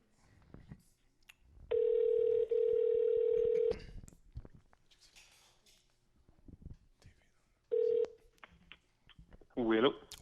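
An outgoing phone call placed to answer a Kijiji listing, with two long ringback tones and a shorter third, separated by quiet gaps and muffled background movement, near and fairly clear.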